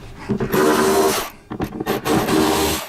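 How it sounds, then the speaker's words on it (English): Screws being removed from a motorcycle saddlebag tether with a hand tool, close-up rubbing and scraping in two bursts with a short pause between, no talk. "pull these 2 screws for the tether"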